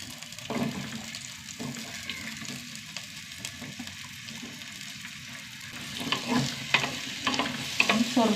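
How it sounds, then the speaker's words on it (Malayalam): Small onions, tomatoes and small green chillies sautéing in coconut oil, a soft steady sizzle with scraping stir strokes that grow busier toward the end, fairly faint and close. "ചെറുതായിട്ട് വഴറ്റിയെടുത്താൽ മതി. ഒന്ന് വഴറ്റിയെടുക്കട്ടെ."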